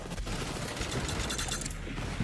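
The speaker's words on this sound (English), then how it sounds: "Damn! I hit every one of those shots." Gunshots in a video game, a busy, fairly steady stretch of overlapping shots and game noise at moderate level.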